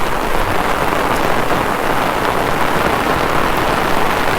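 Heavy rain pours steadily onto a flooded rice paddy, a dense, loud, unbroken hiss with no voices.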